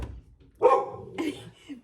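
A pet dog named Bailey, indoors, gives a couple of sharp close barks with a short gap between them, fairly quiet overall and with a little background noise.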